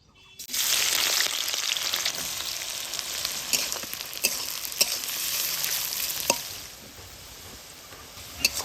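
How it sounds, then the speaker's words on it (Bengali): Chopped onions fry in hot mustard oil in a pan, giving a steady loud sizzle with sharp crackles and pops scattered through. It eases off toward the end, and nobody speaks. "পেঁয়াজগুলা কিন্তু বেশ ভাজা ভাজা হয়ে গেলে"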